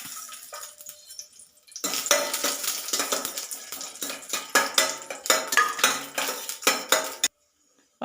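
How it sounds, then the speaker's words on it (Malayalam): Cashews and raisins frying in ghee in a pan, with a close, busy sizzle and repeated scraping and clinks of a metal spoon stirring against the pan, ending abruptly in silence. "ഇനി ഈ അണ്ടിപ്പരിപ്പും മുന്തിരിയും കൂടെ വറുത്തെടുക്കാം."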